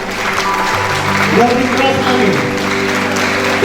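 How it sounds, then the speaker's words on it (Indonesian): A congregation at a Christmas church gathering claps hands together in a loud, continuous wash of applause, mixed with voices calling out over it. "mari kita beri tepuk tangan"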